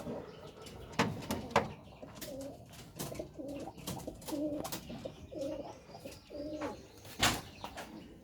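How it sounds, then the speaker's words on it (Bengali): Pigeons in a loft, including a pair sitting on eggs, cooing in a quiet, repeated rhythmic series, with scattered knocks and clicks around them. "এক জোড়া কবুতর এখানে ডিমে বসে আছে।"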